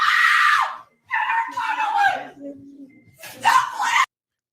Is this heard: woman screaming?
yes